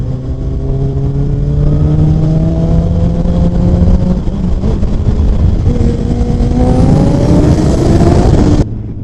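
A Honda CBR 1000RR SP sport bike with a 13,000 rpm redline accelerates hard, its engine note climbing steeply through a gear, pausing at a shift, then climbing again, loud and close, before cutting off abruptly.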